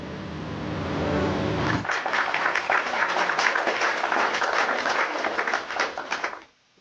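A burst of clapping from a handful of people, close and fairly loud, lasting several seconds before stopping abruptly, after a brief stretch of music.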